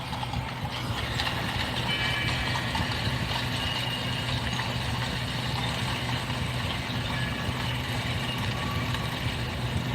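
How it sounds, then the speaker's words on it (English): Rolling train cars make a steady, continuous rumble with rhythmic clatter, moderately loud and unbroken throughout, with no talking over it. "All these different train cars."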